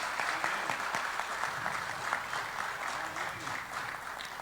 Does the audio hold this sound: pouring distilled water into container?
no